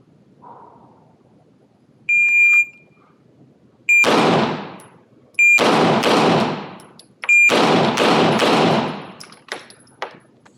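In a pistol distance drill, a short electronic timer beep is followed by sharp, close gunshots in quick triplets, repeated across several strings with brief gaps between them.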